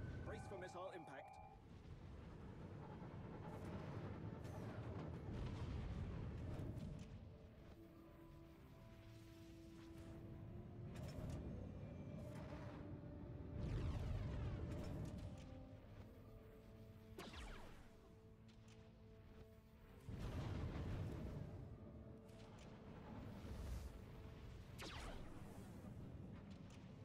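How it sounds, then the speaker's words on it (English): Missile impacts in the space combat game Star Wars: The Old Republic Galactic Starfighter, rolling booming blasts and whooshes over a constant engine drone, with radio-style voices speaking. "Brace for missile impact."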